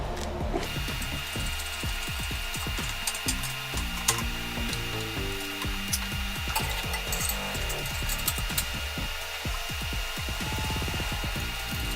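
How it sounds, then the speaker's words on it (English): Ratchet wrench unscrewing a bolt on a Kawasaki Mule 4010 utility vehicle, a rapid rhythmic clicking close to the microphone that runs for several seconds with short pauses between strokes and no talking. "at this point I can unscrew this bolt and put the light on there"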